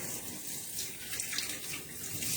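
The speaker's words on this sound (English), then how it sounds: "let me just wash my hand off real quick" Hands rinsed under a steadily running kitchen tap, a continuous close hiss of flowing water splashing into a sink, moderately loud and uninterrupted, without speech.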